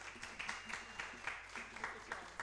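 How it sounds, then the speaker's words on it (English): Scattered audience clapping at a community launch event, moderately faint and uneven with distinct individual claps popping out of a thin, continuous patter for a couple of seconds. "Can we give a round of applause, please?"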